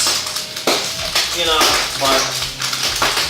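A spatula scrapes and clatters against a pan of frying chocolate bacon, several sharp separate metallic strokes with sizzling between them, close and fairly loud, while someone talks over it.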